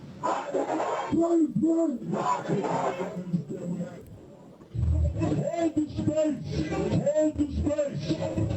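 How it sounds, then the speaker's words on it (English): A gathering protest crowd shouts and chants outdoors, voices rising in repeated rhythmic calls, loud and close, with a brief lull midway before the chanting swells again. "the gathering crowd begins to take the shape of a full-fledged protest"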